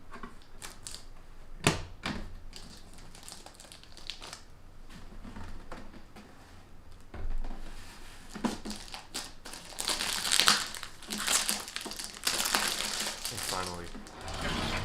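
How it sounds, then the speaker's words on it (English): Plastic protective film crinkles and peels off a new Pet Supplies SmartFeeder six-meal automatic dog and cat feeder, with scattered crackles growing denser and louder near the end, under intermittent talk. "after I take off the plastic film"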